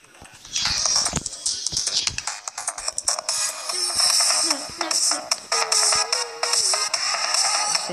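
Upbeat electronic level music from the video game Geometry Dash playing continuously with bright melodic notes, with a voice briefly speaking over it.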